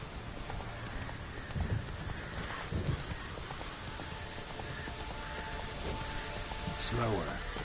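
A horse gallops through rain in the video game The Witcher 3. Hoofbeats thud at intervals under a constant wash of rainfall, with a rider's voice speaking.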